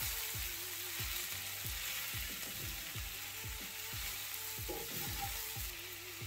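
Sliced onions, garlic and shallots sizzle steadily in a pan with seared jackfruit for a vegan pot roast, with repeated scraping stirs and clicking utensil strokes throughout.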